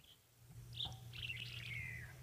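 A red-breasted swallow calls outdoors at sunrise on a safari drive, a few thin, faint chirps and a short trill over a low engine rumble.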